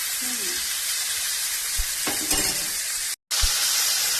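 Green chilies fry in hot oil with a steady, close sizzle that runs throughout, broken by a few stirring scrapes and one brief dropout near the end.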